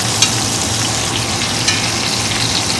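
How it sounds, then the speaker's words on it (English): Butter sizzles and spatters steadily while being basted over a grilled ribeye roast, a loud, even frying hiss with a couple of sharper pops. "we're going to start just kind of basting this butter over the roast slowly here"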